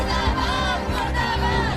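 A crowd of protesters marching in Jalaun, Uttar Pradesh: a dense, steady roar of many voices shouting and chanting together, loud and continuous throughout, with no single voice standing out.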